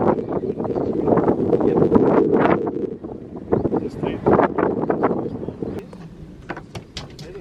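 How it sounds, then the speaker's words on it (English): Wind buffets the microphone in steady gusts, a rough roar that rises and falls for several seconds, outdoors in Andorra. "It's windy now."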